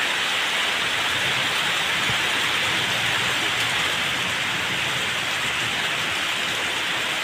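Heavy rain pours during an early-season Kalbaishakhi thunderstorm, a loud, continuous, even hiss of drops on surfaces filling the whole stretch with no distinct thunder cracks.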